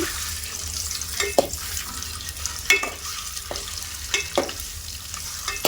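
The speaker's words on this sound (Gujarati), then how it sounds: "હવે આપણે ઈંડા તરવા પડશે હલકા છે તેલમાં થોડોક તરી નાખીએ આવી રીતે" Eggs shallow-frying in oil in a home kitchen, a continuous soft sizzle broken by several sharp spatters and stirring scrapes at irregular intervals.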